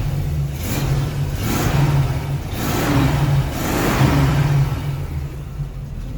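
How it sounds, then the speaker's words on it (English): The V8 engine of a 1966 Chevrolet C10 pickup rumbles at idle, then revs up in several repeated swells, a deep throaty exhaust note close by. "Just a good old factory sound of a V8 engine and a classic C10."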